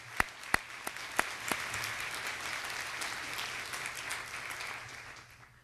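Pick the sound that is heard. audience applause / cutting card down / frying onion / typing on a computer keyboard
audience applause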